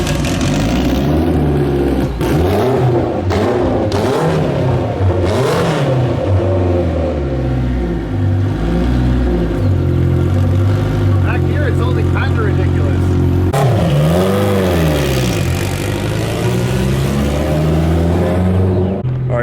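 Mitsubishi Evo X with a 1,000hp engine driven on a street, loud close revving that rises and falls through several pulls with a heavy low drone, while people talk over it.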